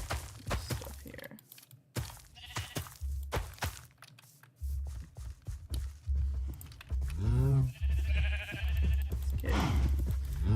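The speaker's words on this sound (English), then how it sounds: "having the sheep and the cows so close to my house might get super annoying" Sheep in the Minecraft video game bleat a few times amid soft footsteps and thunks, the calls short and moderately loud against quiet game sounds.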